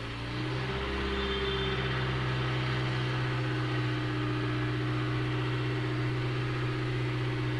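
A 2017 Hyundai Elantra engine, just after timing system repair, idles with a steady low hum and rises slightly as RPM is brought up, holding an even, close drone with no talking.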